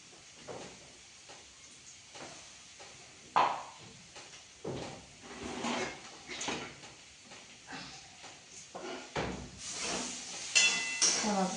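Potatoes, salt and finely chopped green chili fry in hot oil in a pot in a village kitchen, giving a steady close hiss broken by scraping and clattering bursts.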